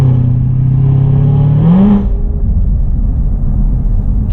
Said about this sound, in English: Just little blips of the throttle gets these great roars from the exhaust.